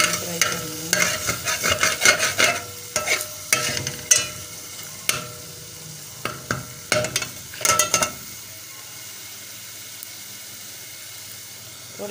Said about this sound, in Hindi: सबसे पहले हमने जो हमारा लहसुन अदरक पेस्ट है और सफ़ेद ज़ीरा है उसको हमने फ्राई कर लेना है।